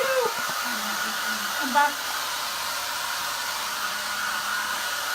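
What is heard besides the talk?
hair dryer running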